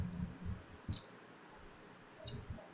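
Two separate mouse clicks, a second or so apart, sharp and close against faint room noise.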